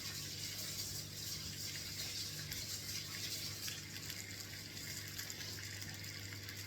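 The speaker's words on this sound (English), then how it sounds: "So I'm just going to quickly wash my hands." Tap water runs steadily into a sink during handwashing in a home kitchen, a continuous broadband rush with a faint low hum beneath it, no voices.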